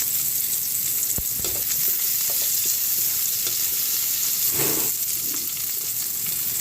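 Onions frying in a pan for a Filipino pinakbet lunch, a loud steady sizzle and crackle with occasional stirring scrapes and knocks, continuous throughout with no talking.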